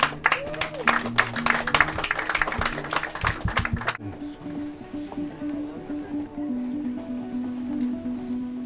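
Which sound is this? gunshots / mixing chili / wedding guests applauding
wedding guests applauding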